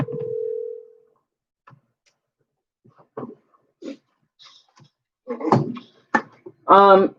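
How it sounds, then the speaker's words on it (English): A telephone line gives a steady tone, then a few short touch-tone beeps are keyed in, scattered between soft talk, with a final ringing burst at the end. "punch in your phone number so we can rock and roll"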